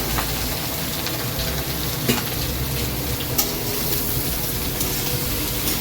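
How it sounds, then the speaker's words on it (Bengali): Ridge gourd and raw onion frying in a pan, a steady close sizzle with faint stirring scrapes and a couple of brief clinks against the pan. "এই দেখো চিচিঙ্গা আর কাঁচা পেঁয়াজ কাটা রয়েছে, ওটাই দিয়ে দেবো। এটা ভাজবো।"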